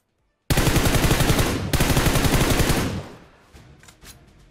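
A loud, close burst of rapid automatic fire in PUBG Mobile rattles for over two seconds, a brief break, then resumes before fading into softer distant shots.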